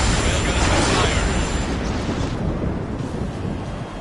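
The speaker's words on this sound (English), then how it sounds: "Railgun has been fired." A railgun in the Ace Combat 7 video game fires with a massive, roaring blast that fills the sound and slowly tails off over several seconds, with no voices heard.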